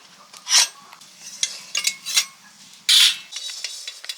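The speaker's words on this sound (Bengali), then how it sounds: "শুকনো করায় কিছু মশলা ভেজে নিচ্ছি প্রথমে জিরেটা ভেজে নিলাম" Cumin and other whole spices are dry-roasted in a dry pan, heard as scattered scraping and stirring scrapes with a few louder clatters against the metal, close and with no voice.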